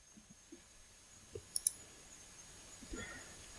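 Faint scattered clicks of a computer mouse in a quiet room, with a close pair of sharper clicks in the middle.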